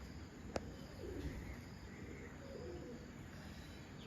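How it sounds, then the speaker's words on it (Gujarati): Soft pigeon cooing rises faintly from a quiet village courtyard in the early morning, pigeons gathering to peck millet grain, with a single sharp click near the start. "એક પછી એક કબૂતર આવવા માંડ્યા ભાઈ"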